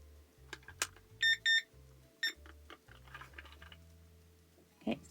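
A cube timer being switched on: a few sharp electronic beeps and clicks stand out near and clear over a low steady hum, with scattered handling taps around them.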